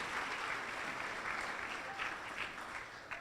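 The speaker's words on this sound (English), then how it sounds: "Good round of applause for them, absolutely." Applause at an American Cancer Society gala honoring event sponsors, a steady wash of many hands clapping in a large room, moderately distant and even, with a few sharper claps near the end.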